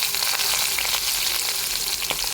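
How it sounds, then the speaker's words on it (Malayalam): Chopped onions sizzle steadily in hot oil with mustard seeds and green chilli in a pan for a pumpkin-leaf egg thoran, a dense, close crackle with small pops and stirring scrapes throughout. "ഇനി നമുക്കിതിലേക്ക് ഉള്ളി ചേർക്കാം"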